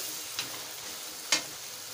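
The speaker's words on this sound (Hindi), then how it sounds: "मिक्स करेंगे अच्छे तरीके से और 5 से 6 मिनट इसके अच्छे तरीके से भुनाई करेंगे" Chicken karahi being stir-fried in oil gives a steady low sizzle, broken by two brief scrapes of a spoon against the pan, the second louder and sharper.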